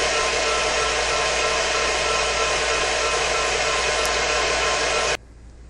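An electric mixer whipping egg whites and sugar into a medium-to-stiff-peak meringue, a loud, close, steady whirring hum that runs evenly and then stops abruptly, leaving quiet room tone.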